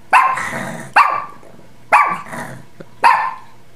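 A dog freshly woken from a nap barks four times, close and loud, sharp evenly spaced woofs with a rough growling edge and short pauses between them.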